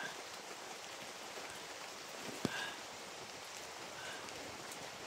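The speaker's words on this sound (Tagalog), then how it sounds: "Mahirap dito guys, palagi na ulan." Steady rain in a video game hisses evenly, a dense wash of drops with one brief sharp tap partway through.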